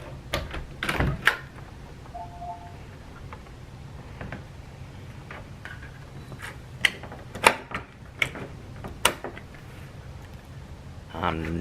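A newly installed deadbolt door being worked, giving a string of sharp mechanical clicks, clacks and thunks of the latch and bolt, irregularly spaced across the span, with a faint voice in the background.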